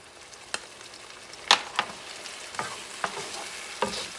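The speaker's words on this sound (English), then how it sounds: "Mix everything up now." A spoon stirs pork stew seasoned with smoked paprika in a pot, a quiet background bubbling under a handful of light, irregular knocks and scrapes against the pot.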